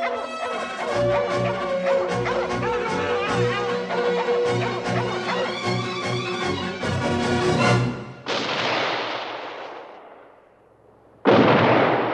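A hunter's gunshot from the Disney animated film The Fox and the Hound: orchestral music plays, then breaks off into a loud booming blast that rings out and fades, followed by a second sharp shot after a short silence.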